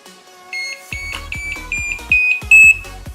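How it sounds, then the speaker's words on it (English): An electric skateboard remote, a Metroboard, sounds a series of short electronic beeps to signal speed level six, about six to eight chirps in an irregular run growing louder toward the end, close and alone. "there is 6 beeps, so that means the speed is on level 6"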